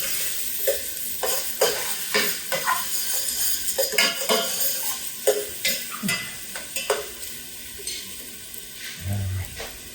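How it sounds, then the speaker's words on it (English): Onions sweating in a pan for marinara sauce, with a soft sizzle under repeated scraping and clinking strokes of a utensil stirring against the pan, close and fairly quiet. "So our onions are sweating."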